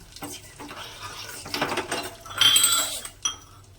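Almonds and cashews fry in melted ghee for a mung dal payasa, with a soft sizzle under clinking and scraping as a spoon stirs them around the pan, close by, with no voices.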